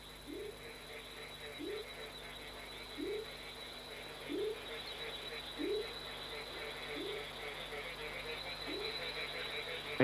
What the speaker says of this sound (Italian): Le rane arboricole, da quelle piccole come una fava a quelle grandi come un avogado, si radunano intorno agli stagni per deporre le uova.